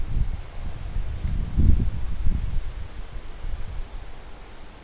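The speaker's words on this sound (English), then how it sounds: "It's so windy this day." Wind gusts buffet the area outdoors, low rumbling swells rising and falling with a soft rustling hiss underneath.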